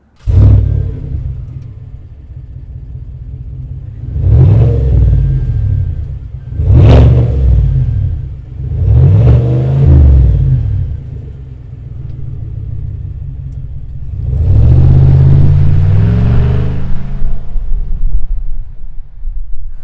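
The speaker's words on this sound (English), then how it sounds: "we show you what it sounds like revving and driving away" A powerful supercharged full-size SUV engine revs loudly in several sharp bursts, then settles into a deep rumble as the vehicle pulls away.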